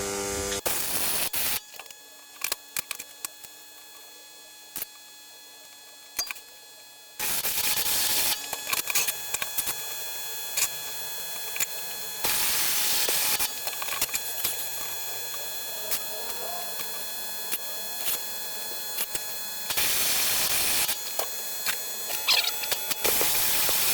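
Welding on a DIY shop camera boom held in a welding magnet: bursts of harsh crackling arc noise, several seconds each, broken by short quiet pauses over a low steady hum.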